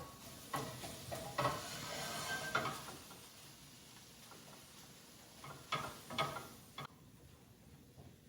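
Half a pound of ground turkey sizzles quietly in a pan, a soft continuous fry with scattered ticks and a few stirring scrapes, steady throughout with no talking.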